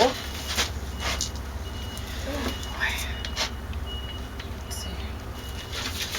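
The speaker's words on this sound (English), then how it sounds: "they're getting the road done today. That's what the beeping is." Faint, repeated reversing beeps from road works sound from a distance over a steady low rumble of traffic and machinery.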